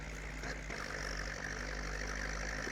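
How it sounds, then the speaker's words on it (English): Ford tractor engine in the Farming Simulator 19 game during silage mowing, a steady loud low rumble with continuous droning revs and no clear pauses. "This Ford really does like to make a lot of noise."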